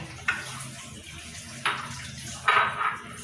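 Cooking oil is poured over raw mutton in a pot, heard as three short, splashy liquid bursts against a low steady background, close and moderately quiet.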